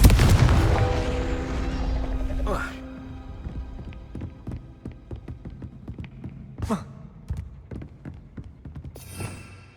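A Confringo fire spell blast in Hogwarts Legacy starts with a loud explosive boom that decays, followed by a run of sharp crackling impacts and another burst later.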